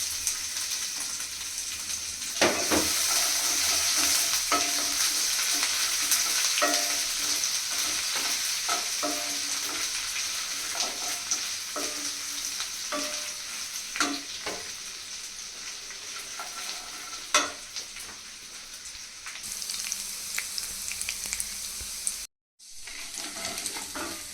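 Ginger-garlic paste sizzling in a pan for paneer matar masala, a long continuous fry with regular stirring knocks and scrapes, briefly cutting to silence near the end.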